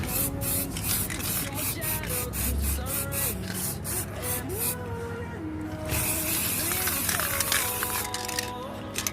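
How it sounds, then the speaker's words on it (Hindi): Spray gun coating alloy car wheels during a restoration, a steady, loud hiss running throughout with faint rhythmic rasping and tonal whines layered over it. "सारे पार्ट पे इक्वली स्प्रे करना।"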